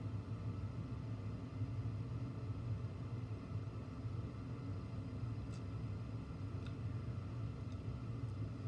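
Giant Dipper, a classic wooden roller coaster at the Santa Cruz Beach Boardwalk, gives a steady low rumble throughout, with faint high squeals or clatter now and then and no talk.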